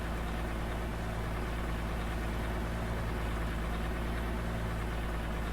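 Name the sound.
Peterbilt truck engine idling in Farming Simulator 19 video game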